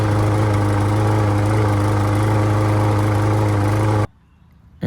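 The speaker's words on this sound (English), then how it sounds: "The mower runs, however it burns oil" A small gasoline lawn mower engine that burns oil runs loud and steady, a constant low drone that stops abruptly near the end and leaves near silence.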